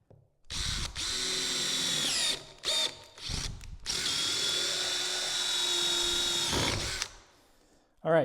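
A power drill bores clearance holes in a window profile, whining loudly in several bursts of varying length with short pauses and a final brief spin, close by.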